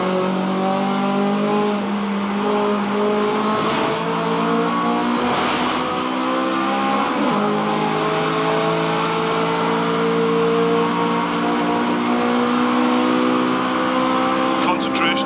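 A race car on a qualifying lap at Oulton Park, its engine roaring loudly and steadily through shifting revs from inside the car, with a voice speaking over the constant drone.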